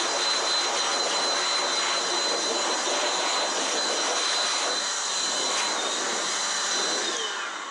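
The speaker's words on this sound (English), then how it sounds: "This is just a forced air blower." A forced air blower, the kind used to dust out computers, runs continuously at close range with a steady, loud broadband roar and a faint high whine, without pause for the whole stretch.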